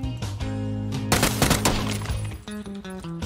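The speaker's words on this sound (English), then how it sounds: "Shotgun!" Shotgun blasts in PUBG come as a tight cluster of loud, sharp bursts in the middle, with game tones and ambience running before and after.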